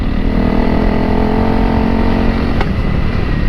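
A Honda CRF300L Rally motorcycle engine holds a steady, loud drone as it pulls up a decent mountain hill climb, with a continuous low rumble and no throttle bursts.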